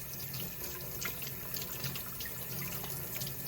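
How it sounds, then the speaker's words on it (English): Tap water runs steadily into a sink while an inked printmaking brayer is rinsed clean. The splashing is constant and fairly soft, with no talking. "Just turn on the water and rinse it off."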